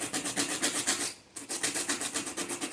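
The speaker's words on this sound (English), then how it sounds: "take up a bit of sandpaper and rub off this area" Sandpaper rubbing back and forth over a dry solder joint on a lithium iron phosphate battery pack, a close rhythmic rasp of quick strokes with one brief pause midway.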